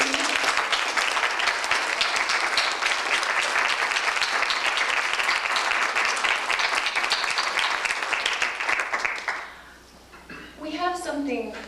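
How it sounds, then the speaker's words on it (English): Audience applause for a musician at a 1994 arts and media conference in Nashville, Tennessee: a dense, steady roar of many hands clapping for about nine seconds, then fading as a voice begins speaking. "I'd like for you to applaud her for the music that she played as you were coming in."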